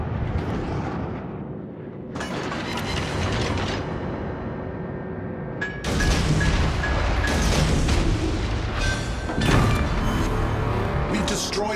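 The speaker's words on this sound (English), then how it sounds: "We've destroyed an enemy battleship." Heavy explosions and rumbling gunfire fill a World of Warships battle as an enemy battleship is destroyed, with a big blast near 6 s. Further booms follow, all under a continuous game roar while a voice speaks over it.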